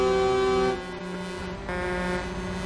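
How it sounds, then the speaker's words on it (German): Car horns sound in Euro Truck Simulator 2 on a drive out of Hamburg harbour: a steady tone holds for most of a second, then gives way to a fainter horn chord that comes back louder and lasts to the end. "was hupen denn hier alle?"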